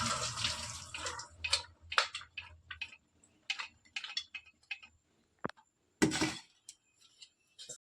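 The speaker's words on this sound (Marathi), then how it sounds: "उकळून झाले, आता आपण गाळून घ्यायची." Boiled liquid being strained into a vessel, heard as irregular trickles, drips and small clinks of metal or glass, with a louder splash near the end.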